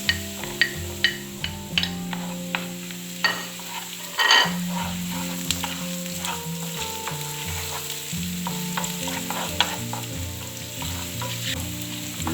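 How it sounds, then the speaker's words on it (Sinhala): Chopped red onions sizzle steadily in a hot pan alongside ginger and garlic, with sharp scraping stir strokes and utensil knocks scattered throughout and one louder burst of sizzle partway through. "ලුණු ටිකත් මේ විදිහට පොඩ්ඩක් ටෙම්පරර් කරලා"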